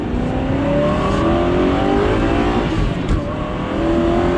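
Supercharged Aston Martin V8 Vantage accelerating hard on a road, its engine a loud, steady close-up roar with rising harmonics as revs climb and a brief dip as it shifts, continuous throughout.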